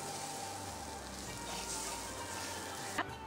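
Beef is stirred into masala in a hot pan, giving a steady close sizzle and frying hiss with a brief scrape of stirring near the end.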